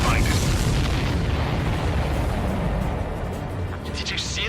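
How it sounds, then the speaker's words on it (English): A supply ship explodes in the air-combat video game Ace Combat 7, a loud, sustained boom with a rumbling low-end roar that fills the whole stretch and slowly fades at the end. "Did you see that explosion?"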